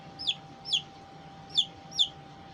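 Four sharp, high peeps come from an adopted chick kept beside a budgie parakeet, evenly spaced and fairly close, standing out clearly against a quiet background hum.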